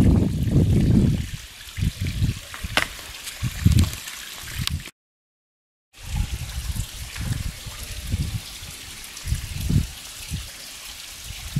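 Water trickles and gurgles over rocks in a stream in Hanaupah Canyon's cascading pools, a close, continuous babbling with irregular bursts, briefly cut to silence midway, with no talking.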